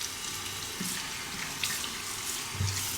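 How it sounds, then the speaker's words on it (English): Tap water runs steadily into a sink to rinse a Merkur 23 INOX stainless steel safety razor, a close, continuous hiss and splash with slight surges, heard alone without talk. "Rinse off."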